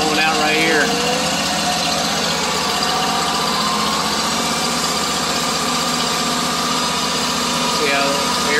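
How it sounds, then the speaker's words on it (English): A cooling fan runs on a 2023 John Deere ZTrak mower, making a loud, steady broadband whoosh and hum that holds constant throughout, with faint voice traces near the start and end. "You got a fan up here. So let's crank it up."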